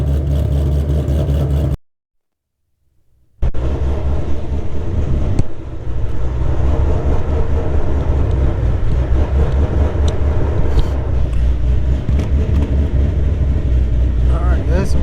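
A car engine fitted with a ghost cam runs a choppy, lopsided idle at close range, loud and continuous apart from a brief cutout early on, with someone talking over it.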